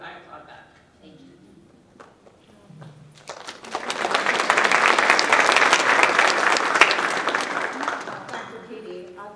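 A panel audience breaks into warm, sustained applause that swells and fades over several seconds, with a voice speaking just before and after the clapping.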